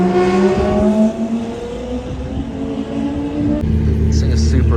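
Loud Lamborghini engine out on a drive, a throaty running roar that shifts pitch as it accelerates, with a deeper low rumble near the end and people talking over it.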